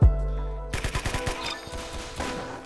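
Rapid bursts of video-game gunfire in Roblox Arsenal, a string of sharp close shots with a brief silence at the start.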